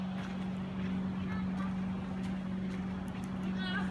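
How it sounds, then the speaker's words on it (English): A motorboat engine drones steadily in the distance across a lake at an Adirondacks campground, with light wind and faint voices. "Hear the boat going by."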